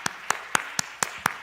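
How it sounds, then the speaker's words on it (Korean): Six separate sharp claps spaced evenly, about a quarter second apart, in a church congregation. Faint, with no talking over them. "네, 박수."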